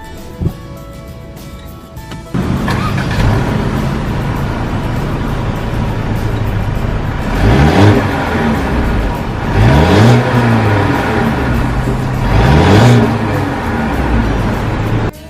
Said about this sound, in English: what we're going to do now is to start up the car